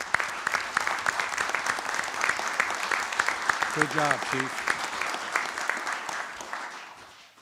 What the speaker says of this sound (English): I appreciate an opportunity to give him a round of applause.